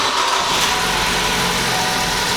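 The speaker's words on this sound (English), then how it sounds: "Vehicle started." A 2013 Ford Focus engine that has just started and idles rough, a steady, close, broadband mechanical rumble with slight unevenness that continues unbroken throughout.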